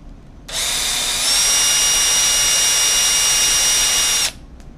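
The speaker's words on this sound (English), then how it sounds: "just drill a hole straight down through. Just a little pilot hole." Electric drill boring a small pilot hole straight down through a plastic game controller shell, a steady high whine that starts abruptly, rises slightly in pitch partway through, then cuts off cleanly, close and loud with no talking.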